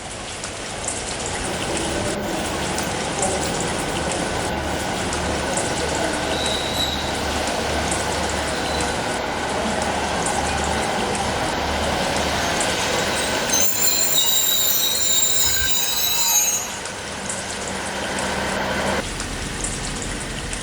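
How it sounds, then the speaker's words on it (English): An Eastern Railway passenger train pulls out of Nottingham station, wagons rumbling steadily close by while wheels squeal in a high screech midway, the rolling noise continuing loud throughout. "Departing out is the 1834 Eastern Railway service to Lincoln from Leicester"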